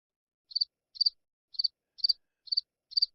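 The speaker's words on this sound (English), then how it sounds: "comes out to crickets." Crickets chirp in six evenly spaced, high trilled bursts, clean and isolated against silence, used as a sound effect for a wrestler's entrance at a wrestling event.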